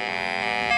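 A refrigerant leak detector sensing gas gives a continuous high-pitched electronic beeping alarm tone, steady and loud, rising slightly in intensity toward the end.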